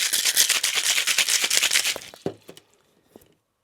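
Ice rattles hard in a cocktail shaker during a fast, rhythmic shake, loud and close, before the motion stops with a couple of final knocks and the sound fades to quiet.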